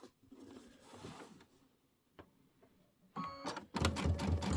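A sewing machine stitching a satin stitch along a quilted Kimberbell Let It Snow pillow top stays quiet at first, with faint handling noises, then runs with a loud mechanical buzz through the final second and a half.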